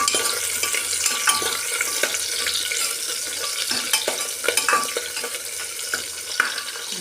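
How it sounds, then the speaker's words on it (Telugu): Onions are stirred and fried in a pan while a millet breakfast is prepared, with a loud, continuous sizzle broken by frequent scraping and clinking strokes from the stirring, with no voices present. "ఉల్లిపాయలు వేస్తాను ఇది కలుపుకొని ఫ్రై"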